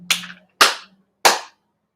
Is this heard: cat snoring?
no